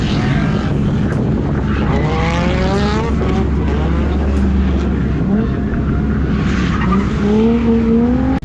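Cars drifting at a wet Club Circuit, with loud revving engines and long rising and falling whines of wheelspin and tyre squeal heard steadily over the track.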